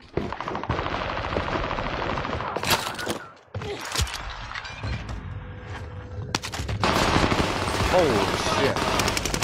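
Rapid bursts of automatic gunfire and single shots crack through a Warzone match, loud and close, broken by a brief lull, with a player's voice heard between volleys.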